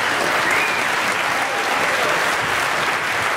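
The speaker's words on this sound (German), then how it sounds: "Applaus!" A theatre audience applauds a cabaret performer, dense and loud clapping that runs without a break and sounds close and full.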